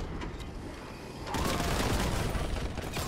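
Grenade explosions in Warhammer 40,000: Boltgun, a quieter stretch of scattered game noise giving way to a sustained loud blast and rumbling clatter of detonations.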